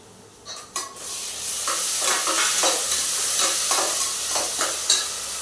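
Ripe tomatoes sautéing and being stirred in a pan for mushroom biryani, a steady close sizzle with a few sharp stirring scrapes and clinks of the utensil against the pan.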